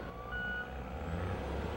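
Truck working at a rail yard, loading intermodal waste containers off a train for the haul to a landfill: a steady, loud low engine rumble with a brief reversing-style beep tone and faint hiss.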